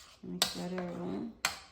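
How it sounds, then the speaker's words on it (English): Jamaican toto batter being mixed with grated coconut in a bowl gives sharp spoon knocks against the bowl at the start and end, with a voice speaking in between. "Mix that around."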